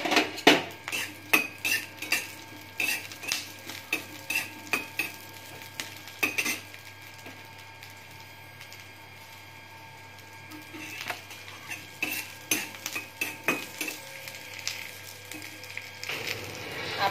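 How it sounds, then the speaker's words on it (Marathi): Green chillies roasting in a small ladle of oil in a pan for bhagar dosa, stirred with a metal spoon: repeated clinks and scrapes against the pan over a faint steady sizzle, pausing midway then resuming. "एक पळी तेल टाकून आपण हे भाजू देणार आहोत"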